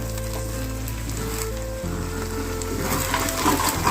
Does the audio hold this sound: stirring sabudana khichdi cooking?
yes